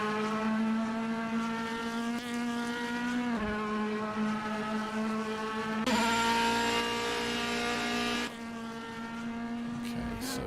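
A DTM race car in a sim racing game at Silverstone: a steady, loud engine tone with strong harmonics that holds, then climbs in pitch under throttle with brief gear-change dips and no voices.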